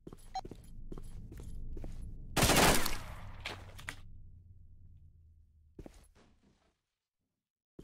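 Gunfire in a Ukrainian shooter video game: several sharp shots with one loud dense burst of rapid fire, then scattered single shots over a background hum before a brief silence.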